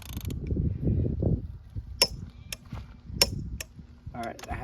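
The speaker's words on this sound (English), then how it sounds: "we're gonna torque this one to 100 foot-pounds first" An Icon 3/4-inch torque wrench ratchets and creaks while tightening to 100 foot-pounds, with several sharp metallic clicks over a low rumble of mechanical handling, close and fairly loud.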